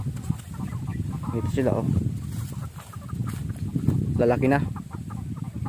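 Pet chickens, including hens, cluck and squawk in a rural yard under trees, with bursts of louder calls among the flock while someone talks nearby.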